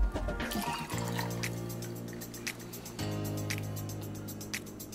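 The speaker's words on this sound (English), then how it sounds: "Come right behind that with our 2 ounces of lemonade." Lemonade pours over ice into a bourbon cocktail glass, a close, steady liquid stream whose tone rises as the glass fills, with a second pour restarting partway through and no voices.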